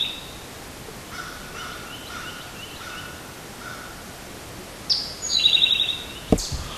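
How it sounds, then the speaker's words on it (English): Faint birdsong drifts through a quiet broadleaf forest hush, with a few clearer chirping calls rising near the end. "You can probably hear a lot of birds here."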